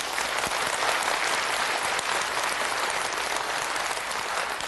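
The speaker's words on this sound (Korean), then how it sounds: "우리 역대 대통령들 위해서 박수 좀 쳐줘." A church congregation applauds during a sermon, producing a dense, continuous roar of clapping that holds at an even, fairly loud level throughout with no talking over it.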